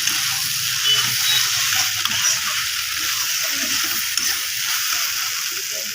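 Soybean chunks being stir-fried with spices in a pan, a loud continuous hiss and sizzle with scraping stirring underneath, close and steady, with no talking.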